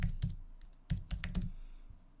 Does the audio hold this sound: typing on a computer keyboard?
yes